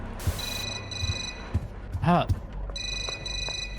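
A cell phone rings in the horror video game Suffer the Night with repeated bright electronic tones and brief pauses, while a person briefly exclaims.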